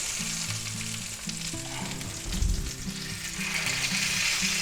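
Thick boneless sous vide pork chops sear in a hot pan with a loud, close, continuous sizzle, swelling briefly as a chop is flipped back over.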